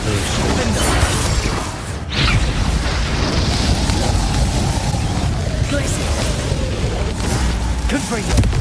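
An Incendio fire spell goes off in Hogwarts Legacy with a dense, roaring whoosh of flame that fills the scene. A sharp break comes about two seconds in, then the burning roar continues loudly, with voices speaking over it.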